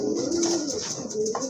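Pigeons at a market stall where pairs are sold coo softly in a short, close murmuring burst with no talk over it.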